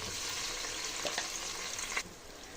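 Ginger garlic paste hitting hot oil in a pan while frying for chicken fry piece biryani, a steady close sizzle with brief stirring scrapes, ending in a short clatter.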